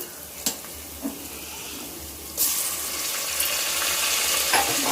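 Ginger and garlic hitting a hot frying pan for a prawn curry, a soft steady sizzle with a few sharp clinks and a louder burst of crackle partway through, no voices.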